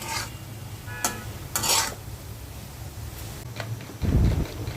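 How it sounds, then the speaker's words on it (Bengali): Potatoes for aloo bhaji are stir-fried in a pan. A spatula makes repeated close scraping strokes over a soft sizzle, ending in a louder burst of scraping and frying. "সকালের নাস্তার জন্য আলু ভাজি করে নিচ্ছি।"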